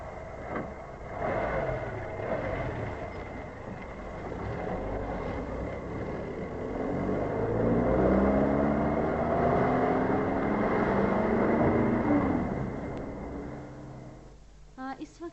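A car drives along a road in the Terai-Bhabar region, its engine a steady rumbling drone that swells and settles over several seconds, with voices faintly underneath.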